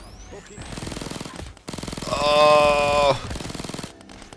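Rapid automatic gunfire from a first-person shooter game, loud and sustained in dense bursts with a brief gap, ending as the weapon runs dry, with a short exclamation from a player over it.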